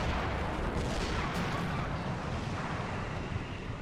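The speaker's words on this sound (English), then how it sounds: "I think the artillery has stopped the main advance of the Reds." Artillery fire in the Army Men video game comes as a continuous, rumbling roar of blasts and wind-like noise that fills the whole short stretch at an even, heavy level, with no talking.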